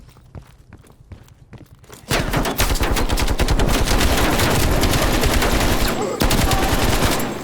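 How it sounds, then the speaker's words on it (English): Rapid automatic gunfire rings out in a Call of Duty Cold War campaign battle, a few scattered shots first, then a loud, sustained burst of fast rattling fire that barely lets up. "We are still under heavy fire."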